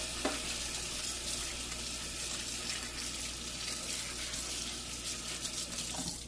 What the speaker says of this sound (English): we're going to have to use some hot water for it